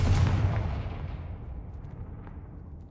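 A Confringo fire spell explodes in the Hogwarts Legacy video game: one loud, deep boom that fades slowly into a rumbling tail, with no talk.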